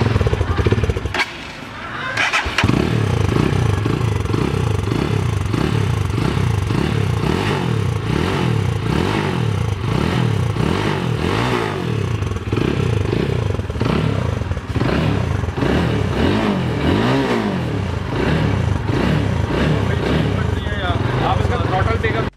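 A Zxmco KPR200 or Super Power Sultan 250 motorcycle engine running close up, a loud steady idle with repeated throttle blips and revs rising and falling, after a brief dip near the start.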